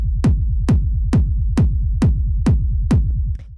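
Heavily processed hard techno kick drum, with distorted, booming low end and a sharp pitch-dropping attack, pounding eight times at a fast, even tempo, loud and alone.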